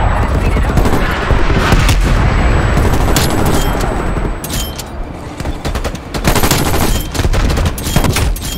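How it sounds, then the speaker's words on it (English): Artillery strike explosions in Modern Warfare II on the Nuketown map, with dense, loud bursts of booms and gunfire crackling almost without pause. "Artillery inbound."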